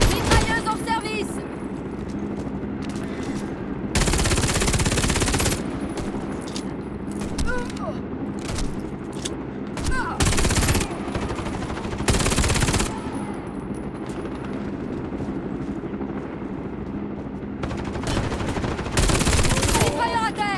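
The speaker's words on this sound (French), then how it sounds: "Mitrailleuse en service." Machine gun fire in the video game Warface, loud sustained bursts alternating with shorter volleys and scattered single shots.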